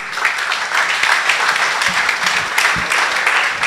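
An audience applauds a speaker being introduced at a conference session, a dense, continuous wash of clapping from a room full of people with a few louder nearby claps.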